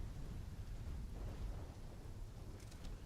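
A storm rumbles in Call of Duty Black Ops 3, steady low thunder and heavy rain forming a continuous, quiet wash of noise with no pauses.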